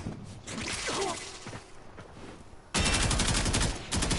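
Kuva Karak rifle firing in Warframe, bursts of rapid automatic gunfire, loud and sharp, with a quieter stretch of scattered shots and swishes before a heavy sustained volley near the end.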